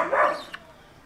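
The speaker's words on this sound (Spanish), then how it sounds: "Mira, me está ladrando." A dog barks once, loud and close, a single sharp bark that quickly fades, followed by a quiet tail with a faint click.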